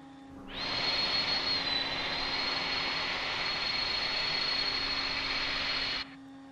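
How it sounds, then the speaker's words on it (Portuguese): A steady, loud jet engine roar with a high whine in Microsoft Flight Simulator at Confins airport, Minas Gerais, rising in quickly, holding evenly for about five seconds, then cutting off abruptly. "Esse barulho de jato, pelo visto, atrapalha um pouco."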